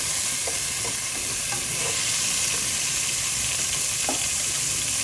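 Munggo with tomatoes cooking in a pan, a loud continuous sizzle and hiss with a few faint stirring clinks scattered through.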